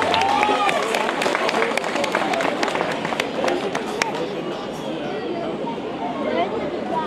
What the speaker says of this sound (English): May I also have a warm round of applause for you, for the sponsors and the volunteers.